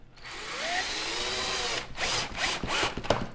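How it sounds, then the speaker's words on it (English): Power drill whirring as it drives screws into a wooden ledge, a steady close motor whine for about two seconds followed by several shorter bursts as the screw seats. "So I'm not going to need my drill anymore at this point."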